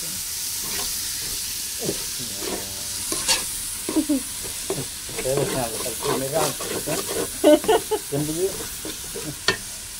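Pulao rice being stirred and fried in a pot, with scraping and stirring strokes over a steady sizzle, close and moderately loud, irregular in rhythm through the whole stretch.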